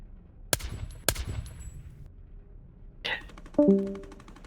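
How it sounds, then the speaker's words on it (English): Gunfire in a video game where players fight over cannons: two sharp, loud shots about half a second apart, then a third burst followed by quieter electronic beeps and tones. "We'll keep on shooting till he realizes."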